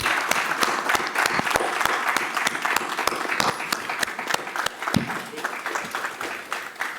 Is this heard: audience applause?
yes